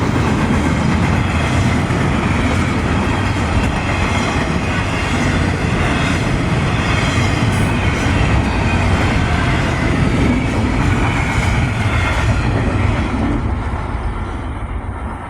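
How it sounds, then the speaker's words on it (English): A CSX mixed freight train rolls steadily past with its mid-train distributed-power locomotive laboring hard, a loud continuous rumble of engine drone and wheel noise that holds throughout and eases slightly near the end. "Listen closely for the mid-train DPU working hard."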